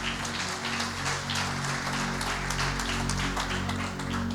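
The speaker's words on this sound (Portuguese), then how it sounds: "vamos aplaudir Jesus pela vida do voluntário." A church congregation applauds during a service, a dense spread of clapping at moderate distance carried over a sustained low organ or keyboard tone.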